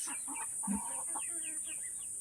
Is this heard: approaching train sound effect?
no